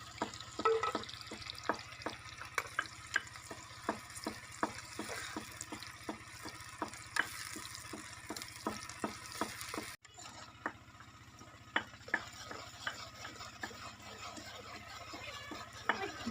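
Roughly cut onions fry in oil in a kadhai over a strong flame, giving a steady close sizzle with many sharp crackles and spatters throughout, dipping briefly halfway before resuming.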